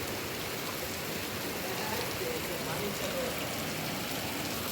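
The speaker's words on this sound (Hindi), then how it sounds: "पहले बारिश नहीं हुई थी, बारिश हो गई इतनी तेज़।" Heavy rain pours down outdoors as a loud, continuous broadband roar with no pauses, dense and close throughout.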